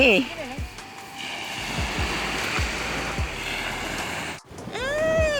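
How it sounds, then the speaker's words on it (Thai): Surf at a sea beach forms a continuous wash of waves under a woman's and children's voices, with a child's high squeals rising near the end. "ถึงทะเลแล้วนะคะทุกคน"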